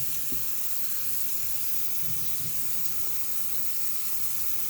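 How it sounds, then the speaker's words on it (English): Celery is rinsed under a running tap, giving a steady close rush and splash of water that continues evenly throughout, with no talking. "let's rinse our food off here"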